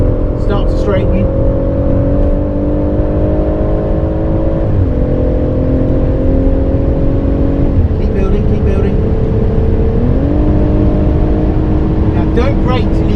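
A race car engine droning loud and close on the Goodwood circuit, holding a steady roar that dips in pitch at several gear changes, with voices faintly over it.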